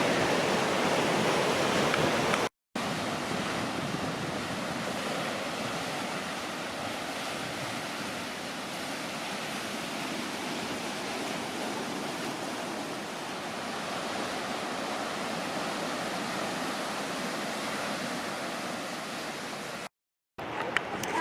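Ocean surf at Spanish Bay along 17 Mile Drive makes a steady, broad wash of breaking waves, constant and fairly loud with a few brief dropouts and no talk.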